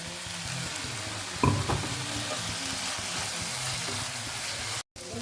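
Masala frying in a pan for biryani gives a steady low sizzle with a brief louder stir-scrape near the middle, quiet and continuous with a short cut near the end.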